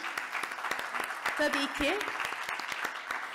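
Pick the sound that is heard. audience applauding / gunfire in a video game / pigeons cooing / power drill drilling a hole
audience applauding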